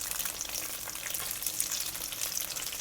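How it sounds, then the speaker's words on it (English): Tofu pan-fries in oil with a steady, dense, crackling sizzle close up and moderately loud, with no voices. "Let the tofu pan fry on one side first."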